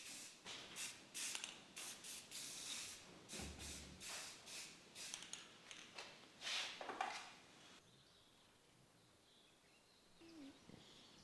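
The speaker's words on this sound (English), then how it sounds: "I'm going to throw some rattle can primer over the joints, just to keep the rust out" Rattle can primer hisses from an aerosol can in a series of short close bursts over the joints of a rusty Alfa GTV boot lid, then the spraying stops and only quiet room noise remains.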